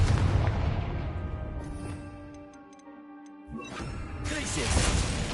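A Confringo fire spell bursts in Hogwarts Legacy, a loud booming blast at the start of a dense game soundscape, then a quieter stretch with faint ticking before another heavy burst of roaring noise swells back in.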